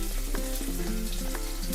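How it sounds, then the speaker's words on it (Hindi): Chopped garlic and ginger frying in a pan over medium heat, a steady close sizzle with light stirring clatter throughout; no talking. "अब इसमें हम ये कटा हुआ लहसुन और अदरक ऐड करेंगे।"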